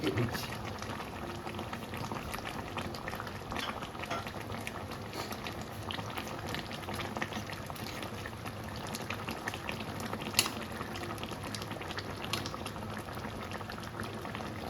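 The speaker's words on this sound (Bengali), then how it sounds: "তরকারিটা ফুটতে দেবো" A curry of potol (pointed gourd), potato and fried shrimp boils in a pan, a continuous close bubbling and simmering hiss throughout, with brief quiet speech.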